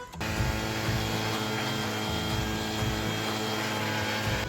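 A petrol-powered pesticide sprayer engine runs steadily and loudly from start to finish, with a continuous droning hum that holds even and close.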